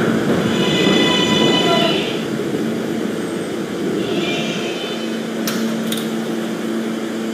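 An R143 subway train on the D line in the Roblox game roars loud and steady, with high wheel squeals near the start and middle and a brief clank toward the end.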